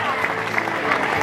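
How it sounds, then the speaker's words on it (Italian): A crowd at a women's road cycling race finish in Borgo Valsugana applauds. Dense, steady clapping fills the short moment, close and fairly loud. "Sentiamolo l'applauso più forte di Borgo Valsugana per Marta Cavalli."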